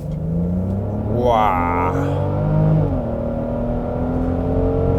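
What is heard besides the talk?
2022 Genesis GV70 SUV accelerating in sports mode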